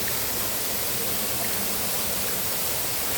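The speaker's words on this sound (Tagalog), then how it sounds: "So ito yung waterfall." A waterfall roars as a loud, continuous broadband rush with no breaks, filling the scene on its own without voices.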